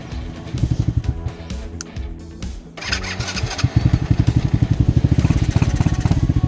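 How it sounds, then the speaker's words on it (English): A Lifan KP Mini 300 motorcycle with a ZS175FMN 4-valve engine runs close by and misfires, its throbbing idle stumbling and dipping midway before picking back up into a steady, rapid pulse. "Misfiring."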